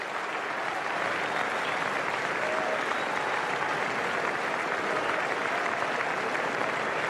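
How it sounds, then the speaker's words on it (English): A cricket crowd at Adelaide gives a standing ovation during the Ashes Test, sustained, even applause from a packed ground that carries on steadily without letup. "standing ovation around the ground"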